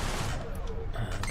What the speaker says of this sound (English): switch to the Gatling gun to take down the hull